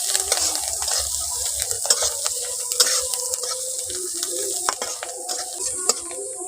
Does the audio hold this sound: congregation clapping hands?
no